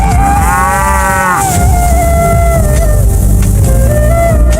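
Cows moo loudly and close, several long drawn-out calls overlapping with one another against a dense background rumble.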